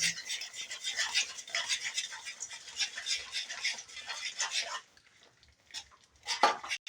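Crushed peanuts being stirred into a jaggery and oil chikki mixture in a pan, a rapid run of gritty scraping strokes that stops, then a few final scrapes, close and moderately loud.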